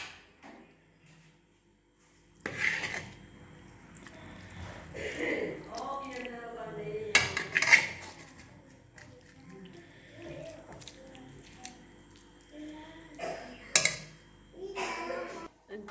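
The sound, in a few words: dishing out badam halwa from the pan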